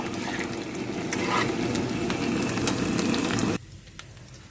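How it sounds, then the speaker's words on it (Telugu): Potatoes frying in oil give a steady, close crackling sizzle that stops abruptly near the end, leaving a quiet tail with a few faint clicks. "ఎర్రగా వేగిపోవాలండి దుంపలు టైం పడుతుంది"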